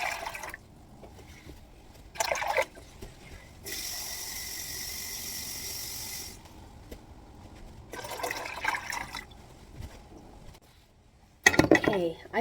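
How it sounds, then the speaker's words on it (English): Cups of water are poured into a container to make hummingbird feeder nectar. There is a brief splash, then a long steady rushing pour lasting a few seconds, later more trickling, and a clattering knock near the end, all close up. "Let me get 2 more cups of water."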